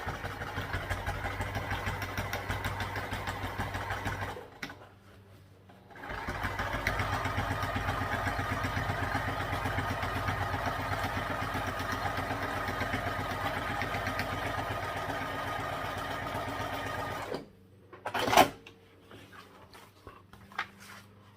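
Sewing machine top stitching a vinyl tote bag with a wider seam allowance, a steady mechanical whir running near and continuous for long stretches, stopping briefly around five seconds and again near the end.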